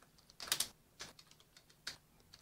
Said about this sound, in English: Look, I'm just going to type in Terminator Salvation